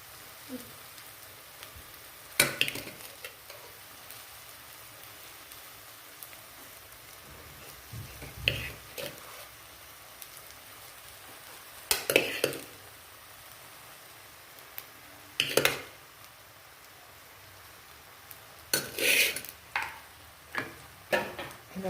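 Rice is tipped into a hot pan of egg masala and stirred, giving a soft steady sizzle broken by a few sharp scraping bursts of the spoon against the pan. There is no talking.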